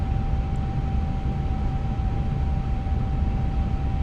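Steady, loud engine and cabin drone of an Airbus A350-900 in Delta livery, simulated in the iniBuilds A350 flight simulator during approach with flaps extended. A constant thick rumble with a thin, sustained whine runs unbroken throughout, with no talk.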